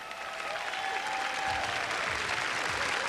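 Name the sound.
audience applause at a pageant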